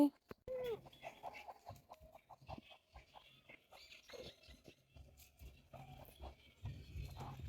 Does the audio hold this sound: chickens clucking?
yes